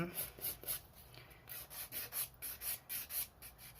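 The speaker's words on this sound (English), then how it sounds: "It's not filing away very easily. This is a 180 grit file, but it's obviously quite old." An old 180 grit file rasps back and forth across a sculpted gel nail in quick, even strokes, about a dozen scratchy passes heard close up and fairly quiet.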